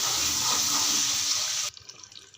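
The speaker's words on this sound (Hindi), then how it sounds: "इसमें 2 कप जो है मैं पानी ऐड कर दूँगी ताकि इसकी जो है अच्छी सी ग्रेवी बन जाए।" Water poured from a vessel into a pan of mutton mince, peas and potato curry, a steady close rushing splash lasting under two seconds before stopping abruptly, followed by faint kitchen noise.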